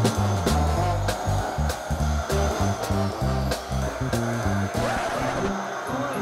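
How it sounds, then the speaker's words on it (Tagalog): A vacuum cleaner runs over a carpet with a steady, fairly loud motor whine, while a pulsing low-pitched pattern sits underneath it. "Ngayon naman, i-vacuum natin ang carpet."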